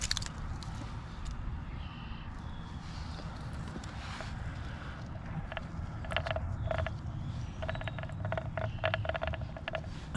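Rusty gears in a Crosley car transmission being turned by hand, giving faint, close mechanical clicks, ratcheting and grinding creaks over a low rumbling background, with scattered short metallic ticks.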